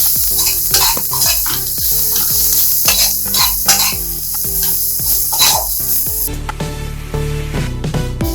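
Salt, turmeric and Kashmiri red chili powder sautéing in a pan for hotel-style Bengali egg curry, a steady loud sizzle with repeated scraping stirs and clinks of a spoon against the pot, no talking.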